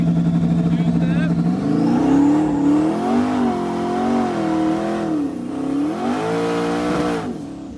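A twin-turbo car holds on the trans brake and two-step, its engine snarling loudly at a fixed pitch, then launches into a rising, wavering roar as the revs climb and dip. Voices can be heard close by.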